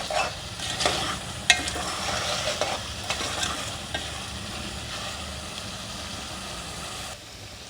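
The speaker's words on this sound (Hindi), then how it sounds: "हमारा गोश्त भुनता जा रहा है।" Mutton or beef pieces fry and brown in a pot for a bhindi gosht dish, a steady dense sizzle running throughout with scraping stir strokes at intervals, close and fairly loud, no talking.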